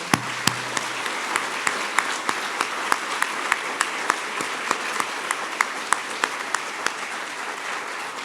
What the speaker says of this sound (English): I want to take a minute and just give a round of applause to the incredible CSC staff